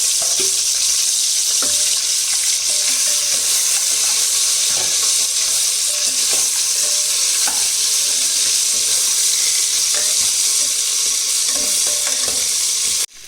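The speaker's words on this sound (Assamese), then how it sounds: "তেল গৰম হওক, মই মাছৰ চুকু দি দিছোঁ" Fish heads frying in hot oil in a home kitchen pan, a steady dense sizzle running the whole time with a few scattered clicks and stirring knocks, no talk.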